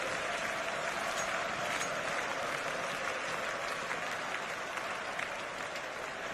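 Huge esports arena crowd at a CS:GO grand final in Copenhagen's Royal Arena, steady, dense roar of applause and cheering that holds loud and unbroken throughout with no talk over it.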